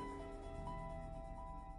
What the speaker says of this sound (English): he has a special terror radius after hitting tier 2